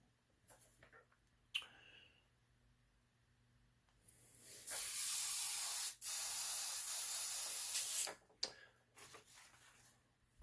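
An airbrush sprays paint in short hissing puffs, then a sustained loud hiss of about four seconds with a brief break, followed by a few more quick bursts.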